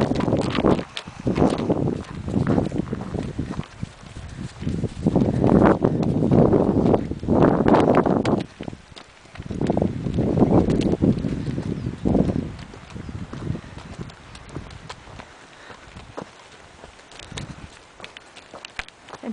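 Hooves of a horse being ridden away from the other horses clop in an irregular rhythm over a long stretch outdoors, with rustling and other background noise.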